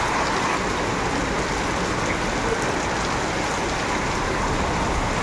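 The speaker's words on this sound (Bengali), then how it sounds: "এখানে ভালোই বৃষ্টি হচ্ছে" Heavy rain pours down outdoors on an evening with clouds and lightning, making a dense, constant wash of noise with no break.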